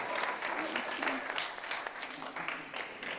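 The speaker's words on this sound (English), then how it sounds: "Hey, that's worth 2 claps." Audience applause at a Boys and Girls Club annual banquet in Thomasville, a steady round of many hands clapping that lasts throughout, with speech mixed underneath.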